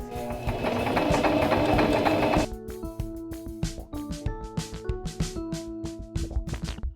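Singer mechanical sewing machine stitching a backstitch: a fast steady whirring run that cuts off, followed by a series of slower rhythmic mechanical clacks and hums as the needle cycles, close and clear, no speech.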